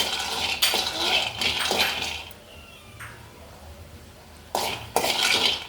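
Peanuts dry-roasting in a pan for a tomato and mint chutney, with bursts of scraping and clinking as they are stirred, separated by quieter stretches.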